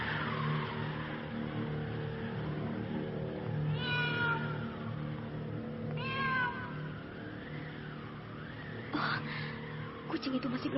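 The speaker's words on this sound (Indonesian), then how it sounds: "Sepertinya kucing itu sedang marah" A cat meows angrily in a few drawn-out, rising and falling yowls at moderate distance, over a constant humming background, with brief sharper sounds near the end.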